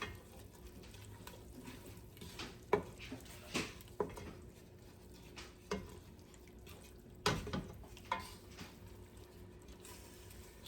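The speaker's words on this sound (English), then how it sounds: "We'll stir that up." Dry spices are stirred into chili in a pot, giving soft, irregular scraping and clinking of a utensil against the pot with faint sizzling in between, quiet and close.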